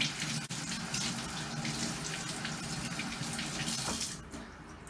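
Tap water runs steadily over cassava chunks as they are washed in a sink, a close, continuous splashing rush that eases off near the end, with no talking.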